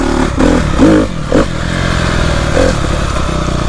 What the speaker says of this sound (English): the engine from the dirt bike there.